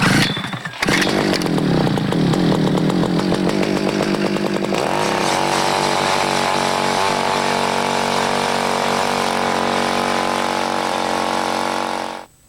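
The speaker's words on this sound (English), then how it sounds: "these power augers make all the difference in the world" A loud power ice auger drilling holes in lake ice whines and revs close by, steadying into a continuous droning whir for several seconds before cutting off.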